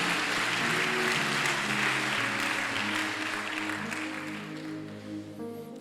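Congregation applauding in a church, a dense wash of clapping that is loud at first and gradually thins and fades, with sustained organ or keyboard tones running underneath throughout.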